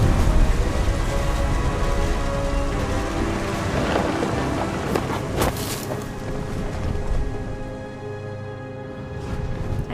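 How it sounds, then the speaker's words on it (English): A thunderstorm in the video game What Remains of Edith Finch: heavy, steady rain hiss with deep rolling thunder rumbling through, swelling to a loud crack near the middle before easing off, no voices. "The thunder sounded much too close and full of angry power."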